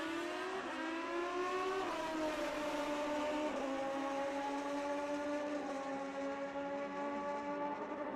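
Two Suzuki Hayabusa drag bikes, an 07 and an 06, run at the Fuel Tech World Finals, their engines screaming hard and steady through rising gear changes, heard from a distance across the strip with no talk.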